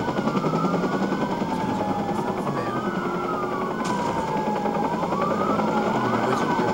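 Police helicopter rotor and wailing police sirens during a multi-unit chase in the video game Watch Dogs, a steady loud drone with sirens sweeping up and down continuously throughout.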